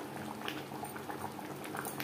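Restaurant-style chicken curry simmering in a pot, a close, continuous thick bubbling and popping without pause or voices.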